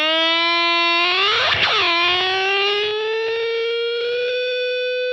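Heavily distorted electric guitar plays the Muse "Plug In Baby" riff, a loud, sustained fuzz tone with a sweeping, pitch-bending squeal near the start and continuous harmonic-rich notes throughout, with no voices.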